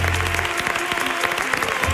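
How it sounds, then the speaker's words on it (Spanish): A crowd applauds on a live talent show grand final, honoring the performers' mothers in the audience; brisk, dense clapping fills the space evenly, with a few crisp claps cutting through and a low hum underneath. "Un aplauso para las madres que parieron a E y D."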